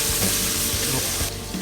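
Garlic and onion hitting a hot pan, giving a loud, continuous sizzle of frying with faint clinks and stirring, no talk.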